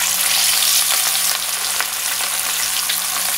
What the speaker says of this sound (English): I make the oil hot. Now we will place the fish one by one inside.